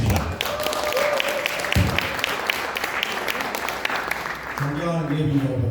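Steady applause from an audience at the opening ceremony of a social cooperative welcomes the chairperson to give a speech; the clapping fills most of the stretch before a voice begins speaking near the end.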